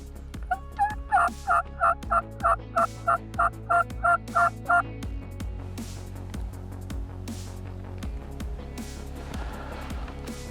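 A male wild turkey gobbles in a rapid run of about ten loud, rattling bursts, then falls quiet, heard outdoors during a spring turkey hunt.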